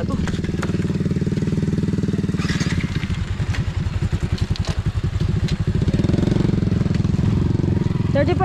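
A motorcycle engine runs close by, idling with a steady low throb, then revving into a rapid, pulsing chug before settling again, with people talking over it.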